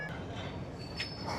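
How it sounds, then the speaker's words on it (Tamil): Low, steady rumble of a train arriving at a railway station platform in Sri Lanka, heard at moderate distance with faint higher squeals over the constant noise. "இந்த இடத்துல ஒரு ட்ரெயின் வந்துருக்கு."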